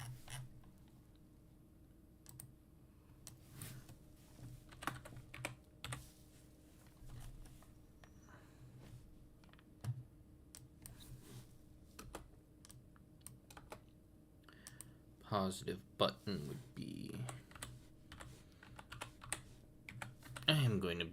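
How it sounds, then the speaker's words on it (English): Computer keyboard typing in irregular bursts of key clicks, close and fairly quiet, growing busier and louder near the end, with a person speaking briefly over it. "I am going to be typing joystick button a lot."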